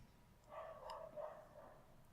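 A puppy gives a few faint, quick yappy barks close together, soft and somewhat distant against a quiet background.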